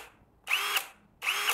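A Premier HL 818 cordless brushless impact drill whirs in two short bursts, each ending in a sharp clack from the gearbox as it stops, close and clear with pauses between.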